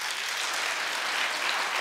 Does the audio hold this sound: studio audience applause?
yes